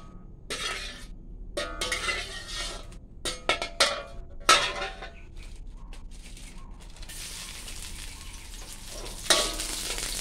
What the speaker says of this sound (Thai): วันนี้จะผัดบวบ